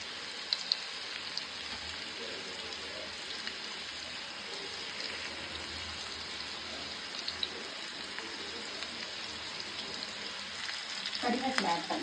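Fish sizzles and fries in a masala coating with oil in a hot pan, a steady hiss running throughout at moderate loudness with a few brief crackles, fuller bubbling near the end.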